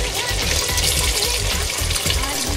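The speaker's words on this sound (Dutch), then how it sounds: "375 ml water toevoegen." Water pours steadily into a cooking pot for Surinamese goat meat masala, a continuous rushing splash that stays even throughout, with no talking.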